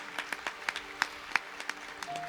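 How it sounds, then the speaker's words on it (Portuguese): A church congregation claps in a loose, irregular patter of distinct hand claps at moderate distance. The clapping is fairly thin and soft, with a faint tone near the end. "Pode aplaudir, pode aplaudir."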